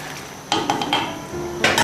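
Lantern pepper with pumpkin juice is stir-fried in a wok, with a few sharp knocks of a spatula against the metal, loud and close, over a low background.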